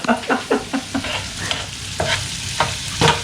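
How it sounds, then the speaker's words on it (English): Onions frying in a pan for spicy devilled sausages sizzle while a utensil stirs them in repeated, rhythmic scraping strokes, close and fairly loud, with no one talking. "So we have to wait until these onions turn into golden color."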